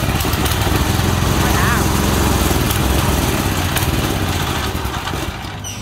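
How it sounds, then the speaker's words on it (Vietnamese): 6.5HP gasoline engine running steadily after a pull start, a loud, close, buzzing drone with a continuous rattle, fading slightly toward the end. "máy giật thử bà con coi nha, máy kéo nhẹ nhàng luôn"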